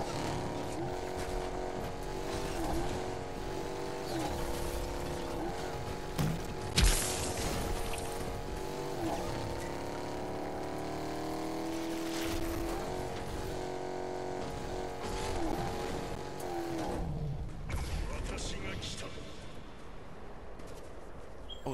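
A car engine in the video game Fortnite revs and shifts steadily with rising and falling pitch, fairly loud and continuous, with occasional sharp bangs and a short burst of background noise.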